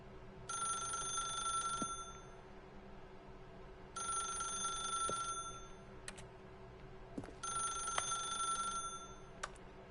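Old-style telephone bell rings in three long bursts, each a bright metallic trill lasting about two seconds, with short pauses between, over a low hum of background ambience in The Stanley Parable.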